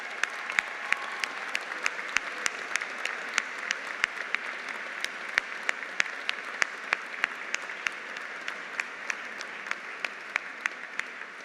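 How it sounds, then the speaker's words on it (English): Sustained applause at a 2022 undergraduate commencement ceremony, a broad crowd clapping continuously for over ten seconds with sharp individual claps standing out close by. "Let's do one more round of applause for all these very important people."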